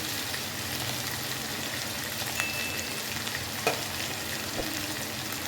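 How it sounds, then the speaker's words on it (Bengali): Spices sizzle in hot oil in a pan for a no-onion, no-garlic vegetarian aloo dum. A dense, even frying hiss is heard up close, with a few soft clinks from stirring and no voices. "ভালো করে মশলাগুলো কষিয়ে নেব"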